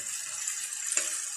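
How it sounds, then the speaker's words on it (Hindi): Water is poured into a cooking pan with a light, steady hissing trickle and a brief splash near the end, quiet and close with no talking. "अभी हम इसमें थोड़ा सा पानी डालेंगे"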